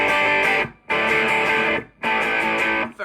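Loud, heavily distorted electric guitar chords from a humbucker pickup through a Carvin MTS3200 2x12 combo amp, ringing out in three sustained strums, each cut off by a brief silence.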